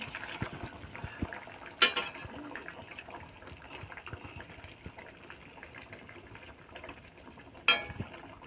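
Pieces of fish fry in oil in a pan, a soft, steady bubbling sizzle with two louder spattering bursts, close by and without talking.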